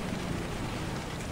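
Hail pours down during a storm in the Storm Chasers game, a steady, dense hiss of countless small impacts with low rumble underneath, continuous and fairly quiet without any voices.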